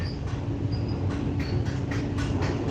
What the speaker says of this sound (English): this train is a bit old